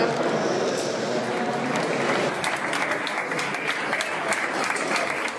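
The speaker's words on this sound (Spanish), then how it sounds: "Y con este aplauso recibía el Comité Ejecutivo Nacional el comité a Mariano Rajoy" Members of a national party executive committee applaud to welcome Mariano Rajoy into a meeting, a loud, continuous crowd clapping that swells slightly after the first couple of seconds and holds steady.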